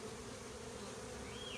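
Honey bees buzz steadily around beehives in a community garden in Westcliff, a dense, continuous hum filling the whole stretch with no voices.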